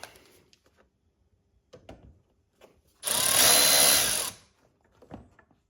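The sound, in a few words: removing 10 millimeter bolts with a power tool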